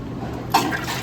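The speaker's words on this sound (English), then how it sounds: "Here comes the water." Water spurting and trickling out of the air vent of an Electro Freeze machine barrel being pressurized with liquid, a short splashy burst over steady machine hum.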